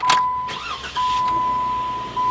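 A 2014 Jeep Wrangler shutting off, heard up close as a brief thump and fading hum with a steady electronic tone running underneath, no talking.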